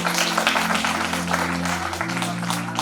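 Applause for a student in a talk session mentioning Fergusson College, Pune: steady, dense clapping from a crowd, filling the moment at even loudness with a low hum running underneath.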